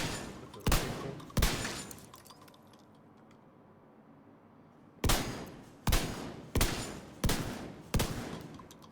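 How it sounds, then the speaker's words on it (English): Rifle shots at range targets in The Division 2, sounding as two sharp reports, a quiet pause, then five more evenly spaced loud shots, with no talk. "Shoot some targets with the rifle."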